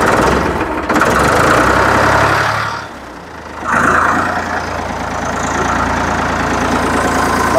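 A Ford 3600 tractor engine idles steadily with a low, rumbling chug, briefly dipping in loudness midway before settling back to an even idle.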